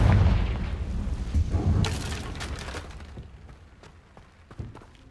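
A Confringo blast spell bursts in Hogwarts Legacy: a loud, heavy boom up front with crackling debris, a second sharp impact near two seconds, then a fading rumble with scattered thuds toward the end.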